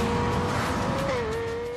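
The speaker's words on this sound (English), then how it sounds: "The sound of the LFA is unique, and once heard, never forgotten." Lexus LFA sports car engine revving, a loud, sustained high-pitched engine tone that holds nearly steady, dips briefly and settles again, with no speech.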